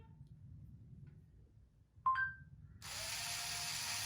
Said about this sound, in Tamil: இப்போ நம்ம இந்த வீல் போகுதான்னு பார்க்கலாம்.